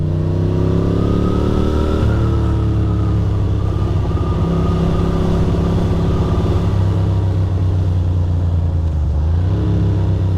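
A Ducati Monster 620 motorcycle ridden through wet New York City streets, its engine a loud, close, continuous drone whose pitch rises and falls as the rider shifts and changes speed.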